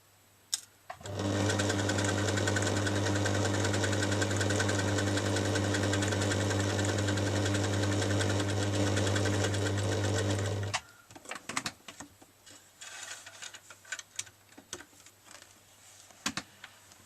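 A sewing machine runs a continuous fast stitch along a denim seam for about ten seconds, a loud steady whirring buzz, then stops, followed by scattered clicks and handling taps.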